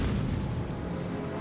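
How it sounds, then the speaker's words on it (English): A grenade blast in Batman: Arkham City: one dense, low, rumbling boom that holds steady at moderate loudness for over a second without a clear decay. "Grenade!"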